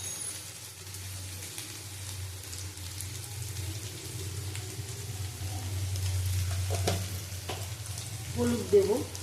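Pumpkin, potato and ridge gourd fry in a pan for a curry, giving a continuous crackling sizzle that swells slightly as the pieces are stirred, with a few clinks near the end. No talking.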